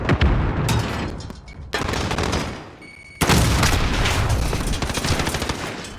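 Loud, dense gunfire from an esports video game match between Ascend and NovaCore Gaming, with rapid bursts and booming shots that drop back briefly and then surge again.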